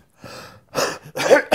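A short breathy intake followed by two sharp bursts, a sneeze close to the listener.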